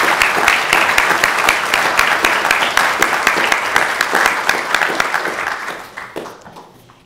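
An audience at a university engineering graduate hooding ceremony applauds loudly and steadily with dense clapping, then tapers off and fades out near the end.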